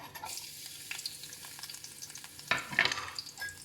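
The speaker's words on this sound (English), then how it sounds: "the oil already hot, right? So I'll put the garlic in. Wait for the sound." Garlic dropped into hot oil in a pan, a soft crackling sizzle with brighter spitting bursts partway through as it is stirred, close and without talk.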